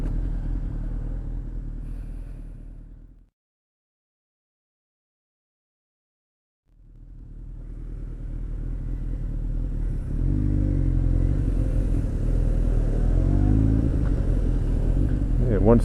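A motorbike in Seoul city traffic gives a close, rough engine rumble that cuts out into a few seconds of silence, then returns and grows louder and busier with traffic.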